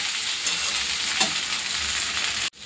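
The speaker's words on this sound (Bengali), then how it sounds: "এই যে সয়াবিনটা বসিয়ে দিয়েছি, পেঁয়াজ সম্বার দিয়েছি, পেঁয়াজ, শুকনো লঙ্কা, তেজপাতা দিয়ে।" Soybean chunks fry in oil with onion, dried chilli and bay leaf, giving a continuous crackling sizzle with faint stirring scrapes, and a brief clatter before a sudden cut near the end.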